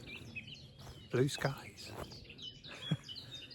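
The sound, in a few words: birds singing in a nature reserve wood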